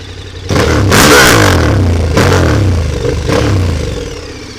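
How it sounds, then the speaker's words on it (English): A 2015 KTM 1290 Super Adventure motorcycle engine revs loudly up close, three strong throttle blips rising and falling over a steady deep idle rumble. "Exhaust note. Everyone wants to hear the exhaust note."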